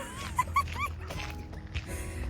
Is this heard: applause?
no